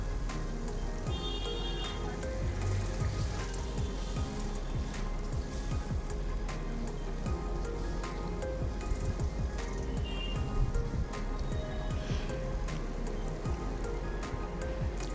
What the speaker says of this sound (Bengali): তেলটা আমার গরম হয়ে গেছে আর চিংড়ি মাছও দিয়ে দিলাম আর চিংড়ি মাছটাকে আমি খুব হালকা করে ফ্রাই করে নেবো